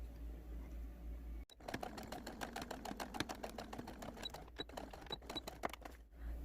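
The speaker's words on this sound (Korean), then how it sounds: "땀밴드 챙 쪽에 놓고 박음질 한 바퀴 해주도록 하겠습니다." A sewing machine starts up and runs fast, stitching a sweatband around the brim of a wide-brimmed beach sun hat, a steady close mechanical patter of needle strokes for several seconds with no speech.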